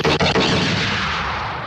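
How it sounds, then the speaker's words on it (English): A cannon sound effect played during a Star Wars Edge of the Empire virtual tabletop game, one loud booming blast that rolls off into a long fading rumble. "let's have a cannon as sound effect for that one"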